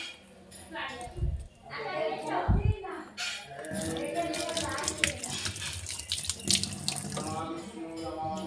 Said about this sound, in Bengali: তো চলো আলুগুলো ধুয়ে নিই।